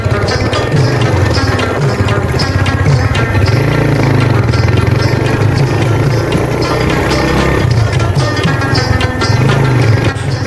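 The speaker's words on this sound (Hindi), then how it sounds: "ऊपर जा रहा हूँ बाइक की आवाज़ बदलती जा रही" A motorcycle engine roars steadily and loudly throughout while climbing uphill on a mountain road, with a rough, labored drone and faint clattering, as if pulling under load.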